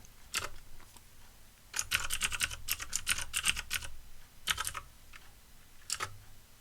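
Keystrokes on a computer keyboard entering a terminal command on an Ubuntu 20.04 system, a few isolated taps followed by a quick rapid burst and a couple more scattered presses, close and clear with no talking.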